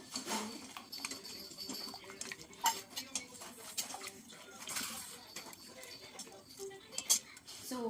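Leg soup (kaal soup) being served into a bowl, with a ladle scraping and clinking against metal pots and dishware in irregular bursts, plus stirring and a few sharper taps.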